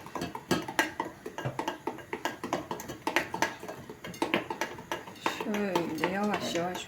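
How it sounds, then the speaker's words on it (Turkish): Dishes are loaded into a dishwasher in a home kitchen, with a rapid run of sharp clinks and clatters of plates and cutlery close by, and a voice briefly audible near the end. "Makineye girecekleri attım."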